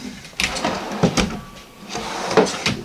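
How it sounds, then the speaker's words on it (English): Ball-bearing drawer glides in a 2019 Aria 3901 RV kitchen roll open and shut in several quick, close slides, each ending in a soft knock, with brief rattles between. "You can also see they're all on the ball bearing drawer glides. So that way they go in and out for you very easily."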